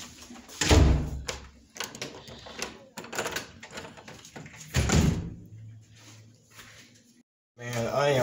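A room door is pushed shut with a couple of solid thuds and bangs, heard up close between stretches of a person talking.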